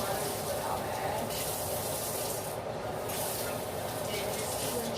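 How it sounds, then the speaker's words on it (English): Water runs steadily from a tap into a container while keto ramen is being made, a continuous loud hiss and splash that fills the whole stretch without a break. "about 16 more ounces of water is what I'll add."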